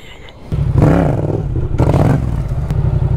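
Yamaha MT motorcycle engine starting up and revving, a loud close burst of throttle that rises, dips, then settles into a rough, rumbling idle with some clatter.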